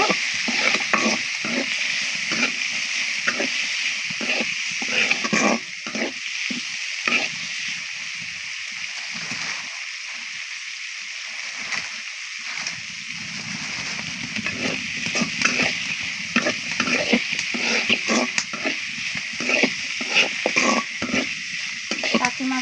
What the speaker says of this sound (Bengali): আমি কাঁচা মরিচ দিয়েই করব এগুলো ভেজে নেব